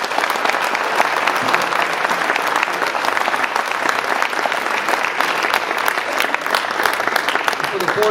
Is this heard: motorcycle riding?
no